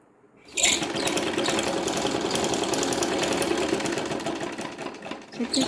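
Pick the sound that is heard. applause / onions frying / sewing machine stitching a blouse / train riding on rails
sewing machine stitching a blouse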